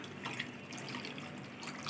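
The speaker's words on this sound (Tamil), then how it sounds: "கொஞ்சமாக தண்ணி சேர்த்துக்க போகிறேன்." Water poured into a pot while onion fritters (vengaya vadam) are being prepared with green chili paste and salt, a steady, soft splashing trickle running without a break for about two seconds.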